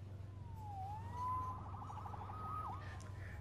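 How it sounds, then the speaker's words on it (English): Police siren in the Spider-Man Remastered video game, a wailing tone that rises and then warbles rapidly, heard somewhat distant over a steady low hum. "Saved by the siren."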